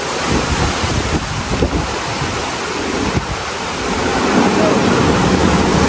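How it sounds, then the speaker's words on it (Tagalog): Strong wind roars and buffets the microphone continuously during a rescue in a storm, a dense rushing noise with gusts swelling louder toward the end. "Lakas po ng hangin, oh."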